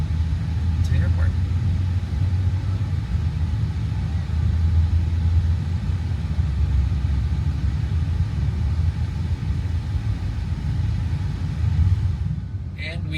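A car drives through Fort Lauderdale streets, heard from inside as a steady, heavy low rumble of engine and road noise that holds constant throughout before easing slightly at the very end.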